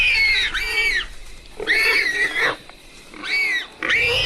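A wild warthog squeals in loud, shrill, repeated bursts at night, three long strained cries close by with brief breaks between them.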